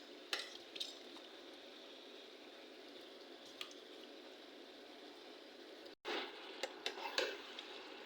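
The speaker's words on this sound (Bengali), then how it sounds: "মাংসগুলো এখন কড়াইয়ের ভিতরে দিয়ে দিব" Pieces of country chicken dropped into masala in a kadai, giving a low sizzle with scattered wet squelches and clicks, quiet and close, with a brief dropout near the end.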